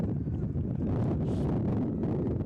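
Steady, broadband wind noise buffets the microphone throughout at an outdoor college baseball game, a dense low rumble with gusty swells and no clear voices.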